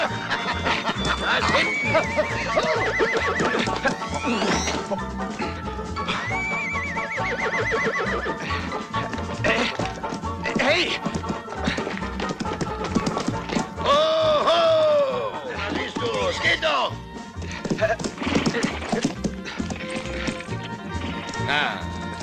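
A horse on a Western film set whinnies and neighs several times with hooves clip-clopping, while people talk in German and laugh nearby throughout.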